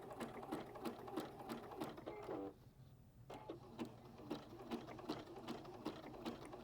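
A Juki HZL DX7 sewing machine stitching through rope runs in a fast mechanical rattle of needle strokes, pausing briefly midway before resuming, close and steady with no voices.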